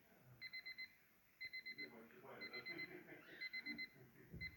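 An electronic alarm clock beeps in quick bursts of four or five tones, repeating several times while a person talks over it.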